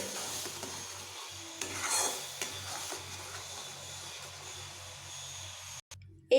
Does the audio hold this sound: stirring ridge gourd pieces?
yes